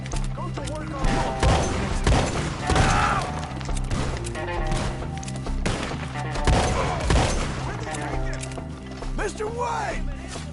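Gunfire in the Western video game Red Dead, repeated shots and crashing impacts scattered throughout a loud firefight, layered over music and shouting voices.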